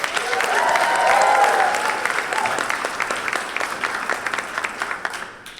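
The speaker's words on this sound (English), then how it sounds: "Let's give them a round of applause." An audience applauds the graduating class of 2016 at a senior toast and last lecture, full sustained clapping that gradually breaks into sparser, separate claps as it fades, with faint voices underneath.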